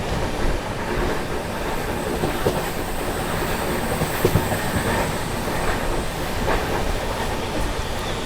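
The Goa Sampark Kranti Express runs at speed near Bamnia railway station, a dense, steady roar of wheels and rattling carriages with faint rhythmic clacks throughout.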